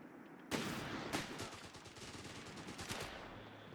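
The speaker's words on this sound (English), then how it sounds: "They've opened fire on us." Gunfire in the real-time strategy game Company of Heroes 3, dense bursts of machine-gun and rifle shots rattling continuously over a noisy battlefield, with a few sharper reports standing out.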